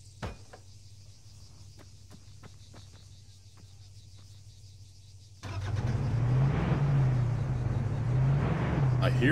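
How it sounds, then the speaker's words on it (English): In the Antistasi video game on Malden, crickets chirp over faint ambience before a truck engine abruptly starts and settles into a loud, steady idle rumble, near and continuous. "I hear his truck."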